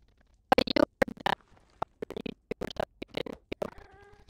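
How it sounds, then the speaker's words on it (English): A robotic, auto-tuned cat meow, with a string of short clipped bursts, a few distinct mews and a final warbling pitched tone, fairly close and loud with no talk over it. "cause it's like a robotic cat meow."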